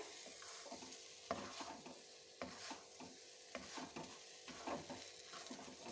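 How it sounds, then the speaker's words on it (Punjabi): Semolina halwa is stirred in a kadai as it comes away from the pan and releases ghee, giving repeated scraping and soft sizzling strokes in a steady rhythm, close and moderately loud, with no talking. "ਜਦੋਂ ਅਸੀਂ ਇਹਨੂੰ ਹਿਲਾਉਂਦੇ ਆ ਇੱਕਦਮ ਕੜਾਈ ਛੱਡੀ ਜਾਂਦਾ ਹੈ"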